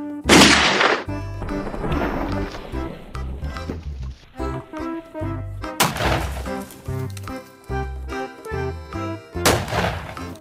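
A toy revolver pistol gives repeated loud electronic gunshot and ricochet effects, with sharp bursts mixed into a busy stream of synthesized sound.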